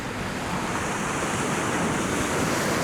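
Ocean swells surge and wash over coastal rocks at a rock-fishing spot, a steady, loud roar of surf with constant wind buffeting the microphone and no talking.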